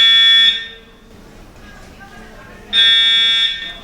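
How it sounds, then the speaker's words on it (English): A fire alarm sounds inside a shopping mall on Black Friday: two loud bursts of a harsh, shrill electronic tone separated by a quieter gap, with faint crowd murmur beneath. "There's a fire alarm at the mall right now."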